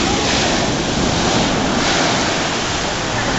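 Surf on Manly Beach, a broad continuous roar of breaking waves and wash that stays loud and steady throughout, with wind on the microphone and no voices.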